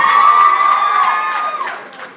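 Convention panel audience lets out a loud sustained scream and cheer, a high shrill chorus that holds for over a second and then fades away.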